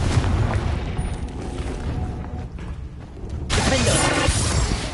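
Confringo spell blast from Hogwarts Legacy, a loud booming burst with shattering debris at the start, a quieter rumbling lull, then a second broad crackling explosion near the end.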